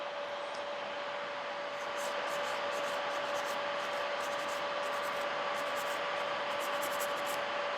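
A nail file rasps steadily across gel nails shaped on forms into a coffin shape, a loud continuous close-up scraping with faint rhythmic strokes layered on top.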